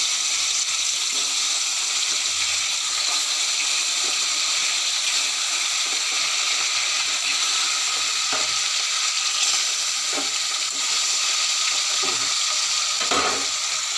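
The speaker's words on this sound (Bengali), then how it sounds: "মাছটা এবার ভালো করে ভেজে নেব" Fish frying in a very hot kadai produces a loud, dense, unbroken sizzle, like rushing spray, that holds steady throughout with only faint, occasional bubbling pops beneath it.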